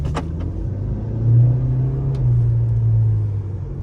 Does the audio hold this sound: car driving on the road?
yes